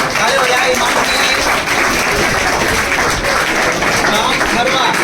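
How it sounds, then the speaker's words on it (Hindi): Loud, dense applause from a crowd at a felicitation ceremony for fourteen youths selected as Agniveers, continuous throughout with voices mixed in. "इसी कड़ी में इमाम खान, ताली हो जाए।"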